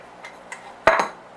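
Metal baking pan for Yorkshire puddings is handled in a kitchen, a few light taps followed by one sharper metallic clatter near the end, close and brief.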